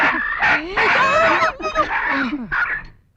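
Chickens cluck and squawk close by in a Malayalam film scene, busy and overlapping with voices talking over the birds for about three seconds.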